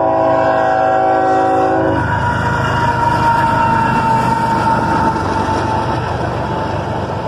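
A northbound manifest freight train led by an ES-44 ACH locomotive sounds its horn for about two seconds, then passes loud and close with a steady rumble and clatter of cars that fills the rest of the clip.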